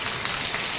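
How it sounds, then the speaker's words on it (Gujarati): Heavy rain pours down in a dense, steady hiss of drops striking surfaces, loud and unbroken, with no voices. "ફૂલ વરસાદ ચાલુ છે"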